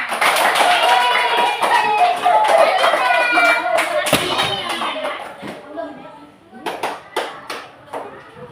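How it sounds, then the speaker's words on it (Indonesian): A classroom of children applauds a student group after their presentation, with dense, lively clapping that thins into a few scattered claps while kids chatter over it. "Tepuk tangan buat kelompok 3 karena sudah selesai mempresentasikan hasil mereka di depan."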